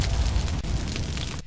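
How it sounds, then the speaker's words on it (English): A loud, sustained rumbling blast in Conan Exiles fills most of the moment with dense low boom and crackle, then cuts off abruptly near the end as a base burns. "I hear the explosion now."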